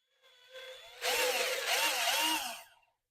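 A power drill winds up and bores a hole through a deer feeder, its motor whine rising and wavering under load for about two seconds before spinning down, close and alone.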